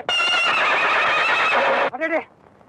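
A horse in a classic Tamil film gives a loud, close whinny lasting nearly two seconds, followed by a short snort before it falls quiet.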